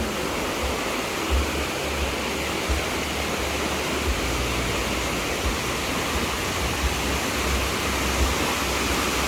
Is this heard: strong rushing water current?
yes